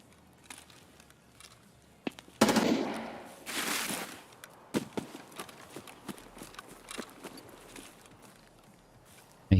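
Scattered sharp cracks of gunfire pop at a distance, irregular and uneven, with a louder burst and some rustling noise early on.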